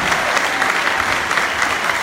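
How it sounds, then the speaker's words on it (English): A room full of people claps for a group of high school students during a Q&A event, a steady, dense round of applause that keeps an even level throughout and has no speech over it. "If we could get another round of applause"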